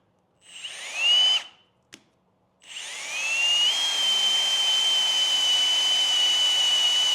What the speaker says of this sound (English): And we are going to countersink these holes, so these heads are not going to sit proud of the beam.